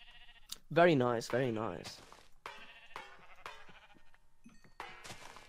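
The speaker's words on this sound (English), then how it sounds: "Oh, I found sheep." Sheep in Minecraft bleating twice, loud and close, with wavering cries followed by someone talking and soft game sounds.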